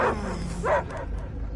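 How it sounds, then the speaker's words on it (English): Cosmo the dog lets out a couple of short barks and yips in the Guardians of the Galaxy video game, two sharp bursts followed by quieter background ambience. "I hear only barking."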